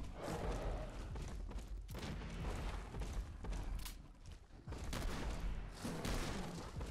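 Gunfire in the Fallout 4 video game, a rapid run of sharp, loud shots and booms that repeat in bursts with only brief gaps, with no speech over it.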